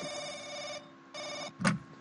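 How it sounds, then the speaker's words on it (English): A telephone rings in The Haunting video game with two steady electronic bursts separated by a short gap, clear and close, followed by a brief sharper sound. "The phone is ringing."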